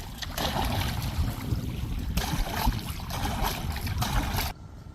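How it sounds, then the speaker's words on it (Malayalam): An engine-powered fishing boat motors across water, its steady low rumble and water wash close and continuous, dropping off suddenly just before the end. "ഇനി നമ്മുടെ എഞ്ചിൻ വളത്തിലാണ് എടുത്തേക്കുന്നത്"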